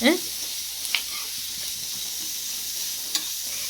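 Sliced onions sizzle steadily in a pan for a crab roast, with a constant frying hiss and occasional louder scrapes of stirring, no talking.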